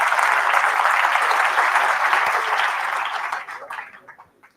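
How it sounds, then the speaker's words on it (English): An audience applauds a lecturer at a mathematics conference talk: steady, dense clapping from many hands for about three seconds, then thinning out and fading to quiet. "a round of applause for us"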